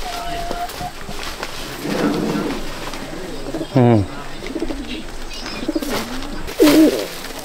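Pigeons cooing in soft, rolling bursts nearby, with faint chatter and bird chirps in the background.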